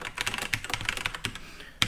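Typing on a new computer keyboard produces a rapid run of close, crisp key clicks in uneven bursts, ending with one heavier keystroke.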